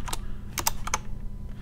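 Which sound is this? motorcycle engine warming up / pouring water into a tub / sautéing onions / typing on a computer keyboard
typing on a computer keyboard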